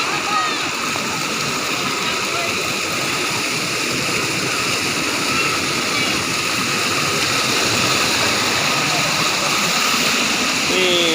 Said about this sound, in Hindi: ये मुनु वाटरफॉल है, मुनु वाटरफॉल छोटा सा।